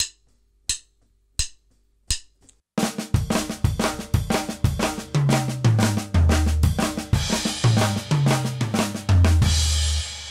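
After four crisp stick clicks, a drum kit launches into a quicker triplet sticking pattern with flammed snare strokes and rim shots, notes rolling down the toms and cymbals swelling near the end; loud, close, unaccompanied.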